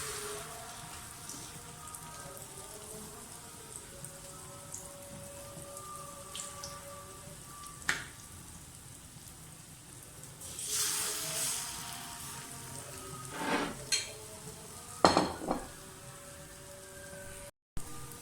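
Malpua batter frying in oil on a tawa, a faint steady sizzle and crackle with scattered pops and occasional louder spits throughout.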